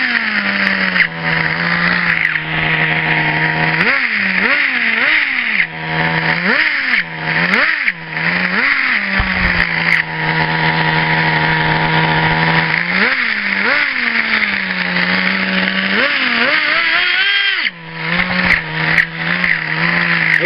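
A combustion car engine runs steadily and loud, rising in several revving swells and then settling back, with a brief dip near the end and no voices over it.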